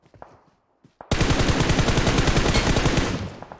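Automatic rifle fire in PUBG Mobile: a loud, close, sustained burst of rapid evenly spaced shots lasting about two and a half seconds after a moment of near silence, with no talk over it.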